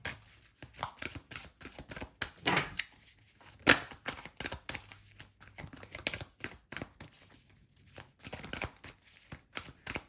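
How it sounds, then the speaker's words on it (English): Tarot cards riffle and slap together in short, uneven bursts, close by, with clumsy tapping and fumbling between shuffles. "I'm struggling to shuffle here"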